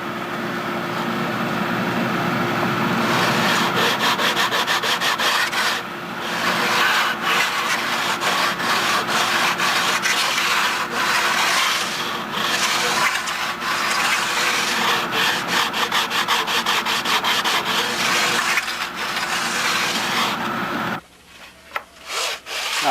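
A powered sander grinds steadily against the bottom of a wooden block to flatten it, with a loud continuous abrasive rasp that varies in intensity before cutting off near the end.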